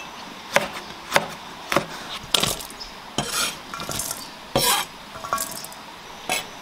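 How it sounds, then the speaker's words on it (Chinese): A kitchen knife chops slices of ginger and garlic on a board, giving a series of sharp, close wooden knocks at an uneven pace with short pauses between the strokes. No one speaks. "再切点姜蒜片。"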